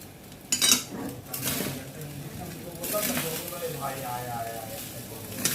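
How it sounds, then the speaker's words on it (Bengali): A metal lid clanks off a pot of mixed fried rice, followed by soft clatter and a faint sizzle of the rice still cooking, with a voice speaking over parts of it. "এখন আমি ঢাকনাটা খুলব।"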